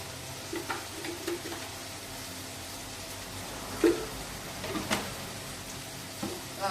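Salted vegetables sauté in a pan for a river-fish curry: a soft continuous sizzle broken by scraping stirs and a few sharper clacks of the spoon against the pan.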